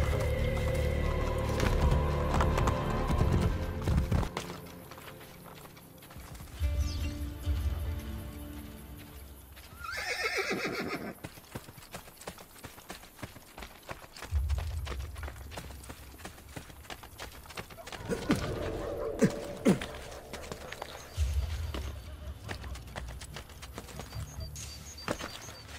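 Horse in Assassin's Creed Ezio Collection gameplay, rapid clip-clop hoofbeats of galloping mixed with loud whinnies and neighs, the gallop fading and returning across a long stretch of close, busy game sound.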